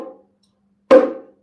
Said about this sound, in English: If you play it with your finger, it should sound somewhat like this.